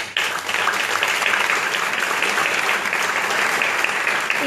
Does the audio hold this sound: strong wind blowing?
no